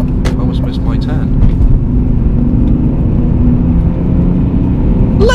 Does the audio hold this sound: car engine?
yes